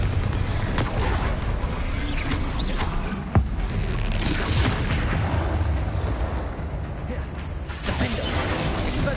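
Confringo blasting spells explode again and again during a troll fight in Hogwarts Legacy on PS5 in hard mode, a dense, loud wall of crackling blasts and rumbling booms with one sharper crack partway through.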